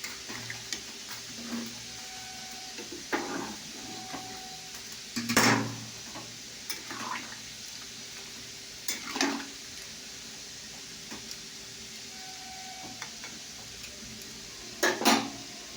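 A pot of food simmers quietly after water is poured in, with a low steady bubbling background and a handful of sharp clinks and scrapes of a utensil against the pot, spaced irregularly, close but fairly faint.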